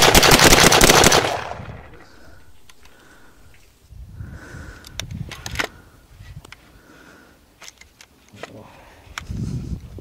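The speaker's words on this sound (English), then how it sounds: "Now I'm binary." A rifle fitted with a binary trigger fires a loud, rapid burst of close shots at the start, followed by quieter scattered sharp clicks and handling noises.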